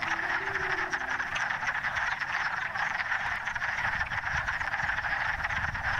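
Dense, steady chorus of wood frogs croaking together in a vernal pool, a continuous clucking chatter at moderate loudness with no pauses and no voices.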